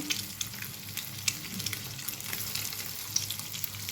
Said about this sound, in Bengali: ডিমগুলি একটু আপনারা একটু ফ্রাই করে নেবেন ডিপ ফ্রাই না করলেও সামান্য ফ্রাই করে নেবেন